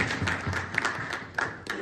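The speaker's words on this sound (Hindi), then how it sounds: "प्लीज तालियां जामिया मुस्तफा" Audience applause at a community reception held in honor of candidate Ishaq Muhammad in Canada: a short burst of moderately loud clapping with distinct, uneven individual claps and thuds.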